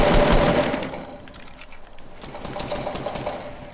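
Rapid automatic gunfire in the video game Fortnite, a dense, steady burst of shots that is loud at first and then continues at a slightly lower level, with no talk over it.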